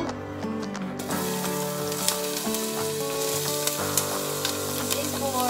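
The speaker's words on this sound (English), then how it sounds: "I am trying to saute the onions now" Onions sauté in a pan for pinto beans, a loud continuous sizzle with fine crackling and occasional scraping stirs, close up and unbroken throughout.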